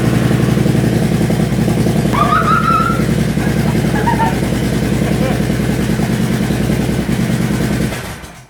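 Bertie the Bobber toy motorcycle engine runs steadily after a button start, with its wheel off the ground. The close, loud mechanical idle continues for several seconds before cutting off.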